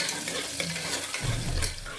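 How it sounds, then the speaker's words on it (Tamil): Green chili and onion sauté in a pan, a steady close sizzle with faint stirring and scraping across the whole stretch, swelling to a louder, fuller fry near the end. No one speaks. "ஒரு பச்சை மிளகாய், கொஞ்சம் வெங்காயம் போட்டு தவச்சிக்கலாங்க"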